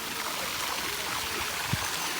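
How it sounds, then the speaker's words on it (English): A pool waterfall at a residential complex in the Dominican Republic runs in a steady, even wash of falling water. It stays constant and fairly close throughout, with no voices. "I'm grateful for the waterfall being back, because you can hear that around the complex."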